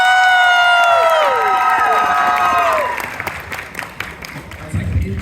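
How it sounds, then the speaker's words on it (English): Crowd at an anime convention Q&A panel for My Hero Academia gives a loud, sustained burst of cheering, whooping and applause, with shouts rising over clapping before it thins into scattered claps and crowd murmur. "Give them one more big round of applause"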